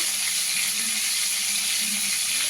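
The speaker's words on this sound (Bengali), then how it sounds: "এই তেলে আমি তেজপাতা দিয়ে দেবো" Bay leaves sizzle in hot oil left over from frying prawns, a short, steady, close hiss without pause.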